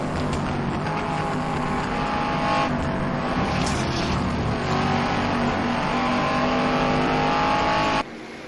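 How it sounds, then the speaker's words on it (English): V8 race cars including a Cobra thundering past on a circuit during a race, a dense, roaring engine drone with rising and falling revs, loud and continuous before dropping off abruptly near the end. "You hear the throats of that V8 and that Cobra."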